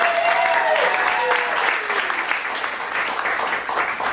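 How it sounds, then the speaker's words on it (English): An audience applauds steadily, dense clapping filling the room, with a few whoops and cheers rising over it. "Let's give them a round of applause."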